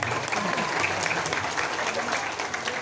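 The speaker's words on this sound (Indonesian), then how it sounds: "Tepuk tangan untuk Bapak Bambang." A crowd at a local gathering in Cilegon applauds steadily for about three seconds, a dense, even wash of many hands clapping with no pauses.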